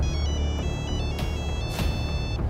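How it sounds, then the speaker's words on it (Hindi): A phone rings with a steady electronic tone over low background hum, a couple of brief noise bursts interrupting it. "14 जून रात 1:30 बजे नेहा का फोन बजता है।"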